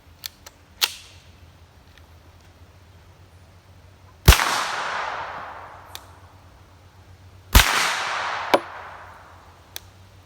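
Two loud, sharp reports from a suppressed hunting rifle firing 115 grain supersonic rounds, each a crisp crack followed by a decaying tail, spaced a few seconds apart with small clicks between.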